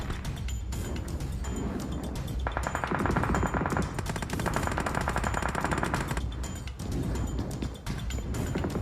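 Sustained automatic gunfire in the PUBG Mobile shooter game, rapid dense bursts running almost continuously with a louder, thicker stretch in the middle, close and loud with no talk over it.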